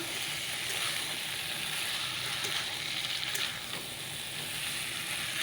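Chickpeas frying in a spiced masala in a pan, a loud, dense, even sizzle that runs the whole time with faint stirring scrapes and no talk over it.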